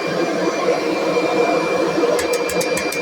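A Kirby vacuum cleaner's motor runs close and loud with a steady, dense roar, strained as it bogs down; a quick run of rhythmic pulses breaks in near the end.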